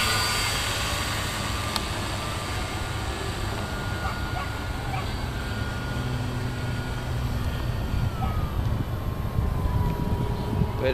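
A Pegasus model airplane flying at a field in Vicente López, its engine a steady, sustained buzzing drone overhead that holds fairly level throughout, with no talk over it.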